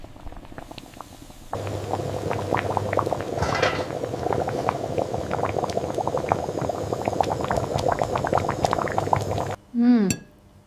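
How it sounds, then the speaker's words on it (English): Cassava boils in a pot of water in a desert setting, with dense, continuous bubbling and popping, close and fairly loud, that stops abruptly before a short final sound. "Once harvested, the resilient cassava is boiled until tender, ready to be enjoyed."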